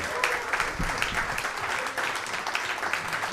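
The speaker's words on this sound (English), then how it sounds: "Keep that applause going for your next comic" Steady applause from a comedy club audience, dense continuous clapping filling the room without a break, at a moderate level from start to finish.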